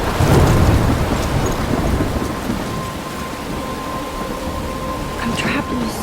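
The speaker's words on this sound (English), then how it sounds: "I'm trapped in a storm?" Heavy thunderstorm with steady rain in the Life is Strange video game, loud rolling thunder at the start easing into a dense, continuous downpour hiss with no voices.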